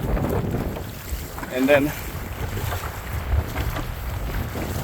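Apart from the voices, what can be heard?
strong wind while fishing on rough water from a boat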